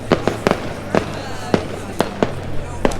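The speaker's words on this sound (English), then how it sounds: "they're all outside watching the fireworks" Fireworks bang in a steady series of sharp, fairly loud cracks, about eight over a few seconds, at a bonfire night party, with a faint hum of people in the background.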